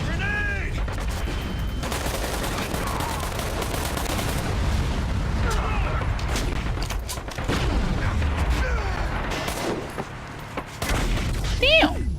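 Continuous rattling gunfire and booming blasts, including a grenade explosion, fill the Metro Conflict match. Shots crackle in rapid bursts throughout, with a louder boom late on and a voice talking over the chaos.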